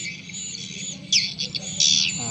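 Recorded swiftlet lure call played back, a continuous high, buzzy chirping and twittering with several louder bursts, alone and close.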